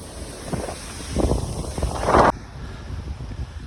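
Gusty wind buffets the microphone during an outdoor run in Ukraine, coming in low, rumbling bursts, strongest briefly before dropping to a softer steady rush.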